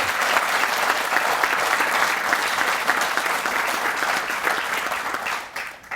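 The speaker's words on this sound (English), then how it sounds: "now we can do a round of applause for all those folks" Sustained applause from a crowd at an outdoor college groundbreaking ceremony, dense and steady clapping that holds for several seconds, then thins and tapers near the end.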